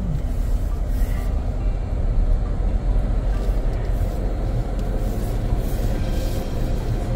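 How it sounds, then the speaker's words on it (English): An automatic car wash runs loudly, a dense, steady mechanical rumble with occasional hissing bursts that continues unbroken for several seconds. "Car wash time."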